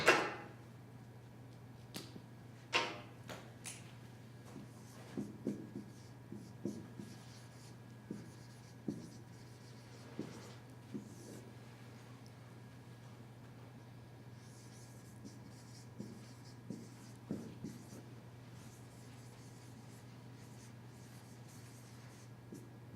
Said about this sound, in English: I better write this word because it's hard to pronounce